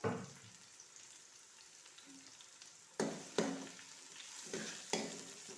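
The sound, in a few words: onions frying in pan until light brown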